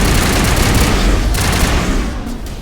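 Sustained assault rifle fire in Mass Effect Legendary Edition combat, a loud, dense roar of rapid shots blending into continuous noise that eases slightly near the end.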